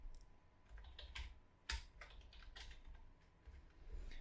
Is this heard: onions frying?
no